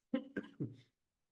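Three short, husky coughs in quick succession, close and fairly loud, followed by silence.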